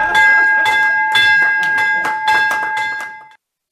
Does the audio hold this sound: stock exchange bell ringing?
yes